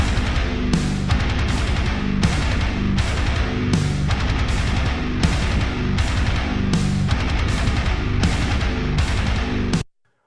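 Bogner guitar amplifier tone layered beneath another amp, a loud, dense distorted guitar riff repeating in steady rhythmic chugs for about ten seconds before stopping abruptly, with no speech.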